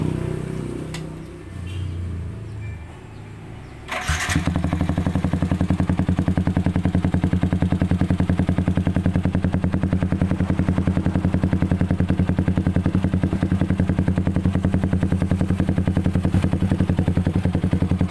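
A Yamaha Vixion motorcycle fitted with a KOU aftermarket exhaust starts after a few seconds of quiet handling noise, then settles into a steady, loud, even idle that stays close and continuous to the end.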